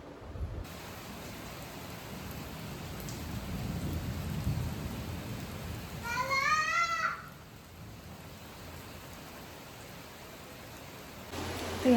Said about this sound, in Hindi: तो यहाँ पे बहुत ही अच्छी वाली बारिश हो चुकी है स्टार्ट, जैसा कि आप लोग देख सकते हो।